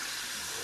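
Hot water pours steadily into a shaving bowl, a continuous close hiss and splash with no voices, filling the whole moment.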